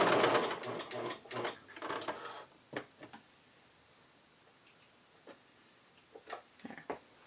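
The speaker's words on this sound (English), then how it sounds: "I'm actually going to do the entire thing on my sewing machine" A sewing machine runs in quick bursts while stitching a seam on a thong from a sewing pattern, loudest at the start and then fading into short, sparse spurts of stitching with quiet gaps between them.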